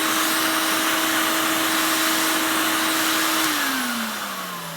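A Filter Queen vacuum cleaner running close and loud, a steady whining motor hum with broad airflow rush that begins to wind down in pitch near the end.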